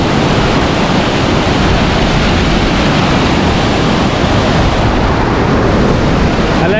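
A fast, milky-white mountain river beside the Srinagar–Leh highway in Ladakh, rushing with a loud, unbroken roar that stays steady and close throughout.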